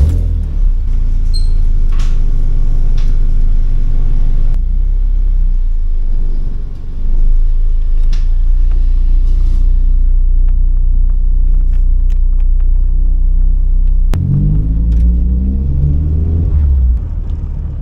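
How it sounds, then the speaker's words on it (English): A car with a K20 engine and RBC intake manifold drives down the road, giving a steady, loud low rumble of engine and road noise throughout, with a brief dip midway and a sharp thump near the end. "I'm gonna take it down the road and we'll see exactly how it's doing."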